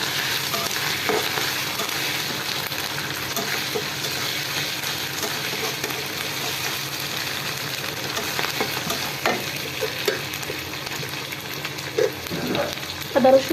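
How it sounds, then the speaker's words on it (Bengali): Ginger-garlic paste frying in a pan with onion and fish, a continuous close sizzle and crackle with occasional stirring scrapes and clatter near the end. "এই পর্যায়ে আমি হালকা একটু আদা রসুন দিব, 1/2 চামচ করে দিয়ে এবার এটাও একটু ভেজে নেব।"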